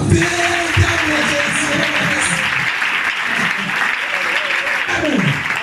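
A church congregation at a Sunday service claps and cheers continuously, a dense, steady wash of applause filling the room, with some voices mixed in.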